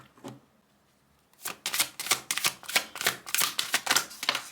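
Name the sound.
tarot cards being handled and removed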